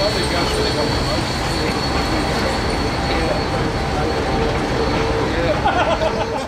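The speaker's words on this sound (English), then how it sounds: "As F13 arrived back into Moorhouse, the diesel locomotives came off the train and were shunted into the yard" Diesel locomotives haul a train arriving at Ferrymead Railway, a loud, continuous rumble of engines and rolling stock close by, with someone speaking over it.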